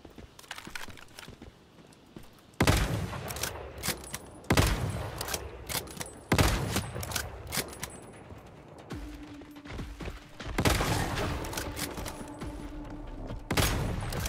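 Sniper rifle shots in the survival shooter Once Human, several loud, separate booming cracks spaced a couple of seconds apart, each with a ringing tail and faint mechanical clicks between.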